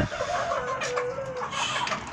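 Chickens of a small ornamental breed cluck softly in a home flock, making a few short, mid-level calls with faint background noise.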